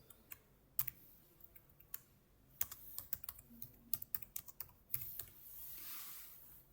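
Irregular bursts of keystrokes on a computer keyboard, quiet and close, with separate clicks and short quick runs of typing and a faint hiss near the end.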